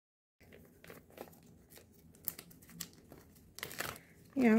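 Close-up crinkling of plastic FoodSaver vacuum-sealer zipper bags in short, irregular bursts, with faint voices underneath and a louder rustle at the end.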